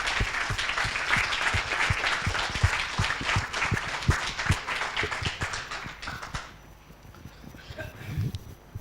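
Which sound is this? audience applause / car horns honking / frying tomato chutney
audience applause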